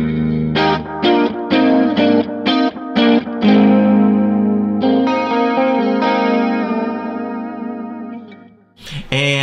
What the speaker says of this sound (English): So if the plastic chorus by itself sounds like this.